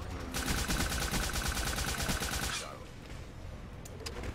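Rapid automatic fire from the Revenator gun in a first-person shooter video game, a dense loud rattling burst for about two and a half seconds before dropping to softer scattered shots and game noise.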